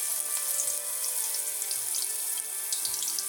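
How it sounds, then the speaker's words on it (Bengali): Jute leaf tips dipped in batter and fried in hot oil, giving a steady, bright sizzle with fine crackling pops throughout, close and fairly loud with no talk. "এবার আমি এই জোড়ায় জোড়ায় পাট পাতার ডগাগুলো এইভাবে ব্যাটারে নিচ্ছি, দিয়ে তেলে দিয়ে দিচ্ছি।"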